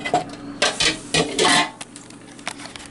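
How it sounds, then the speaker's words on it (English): A spoon scrapes and clinks against a pot while barbecued pulled pork is stirred, a few uneven metallic scrapes and knocks close by, with no talk. "But first I had to come down and stir my grub"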